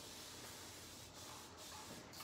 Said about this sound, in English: always keeping nice consistency with water,